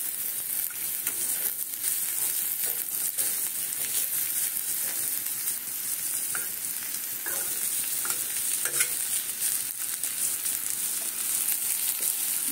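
Green chilies frying in a pan for a chira paneer pulao give a steady, close hiss and sizzle across the whole stretch, with light scraping and stirring clicks from the spoon and no voice.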